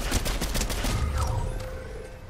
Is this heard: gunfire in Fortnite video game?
yes